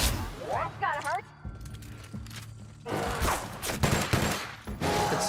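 Sniper gunfire in The Outer Worlds rings out as several sharp shots and impacts mixed with game effects and clattering, while a person talks over parts of the action.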